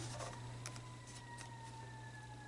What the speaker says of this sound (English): I hear the siren outside.